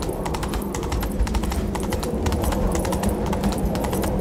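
Horse hooves in The Witcher 3, in Skellige, pound in a rapid, steady gallop, loud and close, over a dense rumbling bed of noise.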